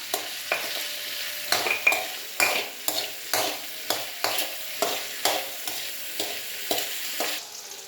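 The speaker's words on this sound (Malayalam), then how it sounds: "ഇനി നമുക്ക് ശകലം ഒന്ന് ഫ്രൈ ആക്കി എടുക്കാം" Okra with a pinch of salt frying in a pan, a soft constant sizzle broken by regular spatula scrapes and taps about twice a second, close and unaccompanied by speech.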